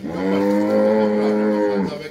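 A female water buffalo offered for sale lows in a single long, deep, steady call that lasts about two seconds, loud and near.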